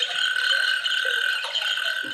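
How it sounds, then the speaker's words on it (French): Frogs croaking as the wake-up sound of a dawn simulator alarm clock: a dense, continuous chorus of rhythmic croaks that holds at an even level throughout and sounds moderately close, with no talking. "Et les grenouilles."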